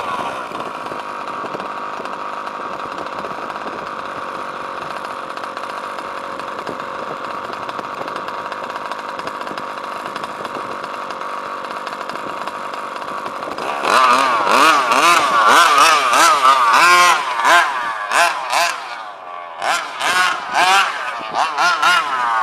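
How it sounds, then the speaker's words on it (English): A methanol-fuelled engine idles with a rough, buzzy drone, then revs up into rapid, uneven bursts of loud, rasping throttle blips. "notice how this idle's coming back down, how it's idling smooth"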